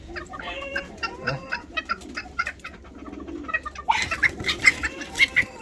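Several roosters cluck and mutter in short, irregular bursts nearby, with a sharper run of calls toward the end.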